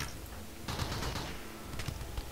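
Rapid, faint bursts of gunfire in the colony game RimWorld, a soft chattering of small shots clustered in quick runs, low in level and without talk.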